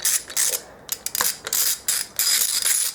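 Ratcheting clicks from a wrench tightening the clutch cover bolts on a ZS155 pit-bike engine, in quick uneven bursts with short pauses between strokes, close up.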